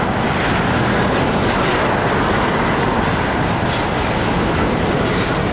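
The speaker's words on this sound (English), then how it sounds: "This looks like to be an empty rock train." A Norfolk Southern freight train of empty rock cars, led by an SD70M-2 and an ET44AC, rolls past close by in a steady, loud, dense roar of wheels and rattling wagons with no voices.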